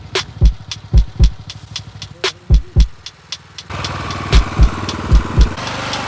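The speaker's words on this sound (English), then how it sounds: "I'm gonna grab the tractor, get things going." A small tractor on a 4.5-acre garlic market garden runs its engine at a steady idle, with repeated sharp knocking bursts over a constant mechanical drone that grows louder and denser partway through.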